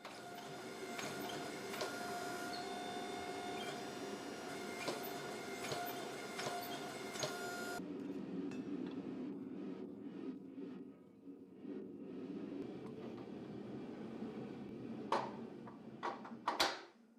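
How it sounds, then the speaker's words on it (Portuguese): A hydraulic forging press in a blacksmith shop hums with a steady mechanical drone that suddenly drops away midway, leaving a quieter room broken by a few scattered knocks and metallic clanks near the end. "A máquina que estou usando aqui é uma prensa hidráulica de forjamento."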